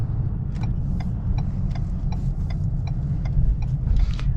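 A 2022 Ford Maverick pickup driving on the road at night, a steady low engine and road rumble heard from inside the cab, with a faint regular ticking over it and no speech.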